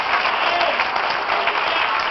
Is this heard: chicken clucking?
no